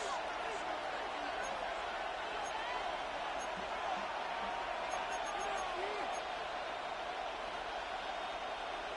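A stadium crowd in the Madden 26 football video game roars in a steady, sustained wash of cheering with no breaks, moderately distant and even throughout.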